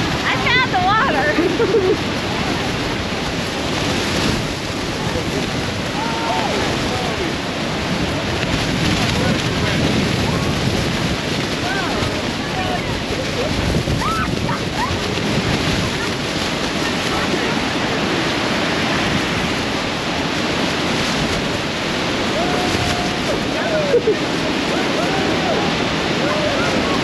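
Niagara Falls roars during a Maid of the Mist boat ride, a loud continuous rushing wash of water and wind buffeting that lasts throughout, with voices talking over it at times.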